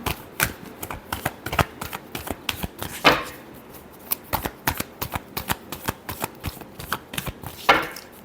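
Tarot cards being shuffled by hand in a quick series of sharp, crisp riffling bursts and taps, with a couple of longer riffles standing out, close and clear with no speech.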